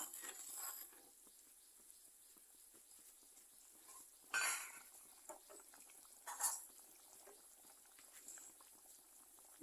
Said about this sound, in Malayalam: നമ്മുടെ ഗ്രേവിയൊക്കെ നന്നായിട്ട് പുളിയൊക്കെ ഇറങ്ങി നന്നായിട്ട് തിളച്ച് വന്നിട്ടുണ്ട്